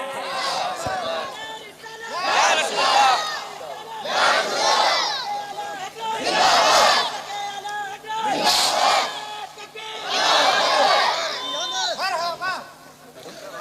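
A large gathering at a Ramadan religious sermon chanting back in response to a takbeer call, loud rhythmic massed voices rising in repeated swells of shouted slogans, close and full.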